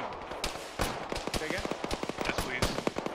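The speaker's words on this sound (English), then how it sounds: "It's taking AA. There's AA fire." Rapid anti-aircraft gunfire in the ArmA video game, dense bursts of sharp cracks that come in quick irregular runs. Some shots are louder and closer than others, and voices talk over the firing.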